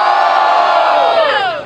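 A packed crowd at a Brazilian freestyle rap battle erupts in loud, continuous cheering and shouting, a sustained roar that holds steady and then tapers off slightly at the end.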